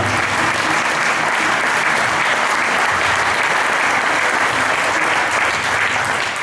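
Dense, loud applause fills a hall for a folk music group's bandurria player, a continuous roar of many hands clapping without a break.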